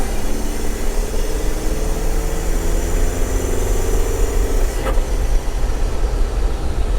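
A TJ Wrangler with a BEW TDI diesel engine swap runs and drives, its engine giving a loud steady drone close by. A brief sharp sound cuts in near the end.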